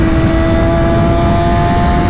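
A 600-class sportbike engine runs hard in third gear at high revs, with a loud, steady high-pitched scream and constant wind roar from riding at speed.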